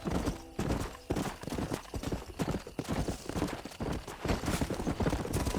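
Horse hooves gallop in Red Dead Redemption (2010), a steady, fast clip-clop rhythm that runs throughout at moderate loudness, close by, with no talk over it.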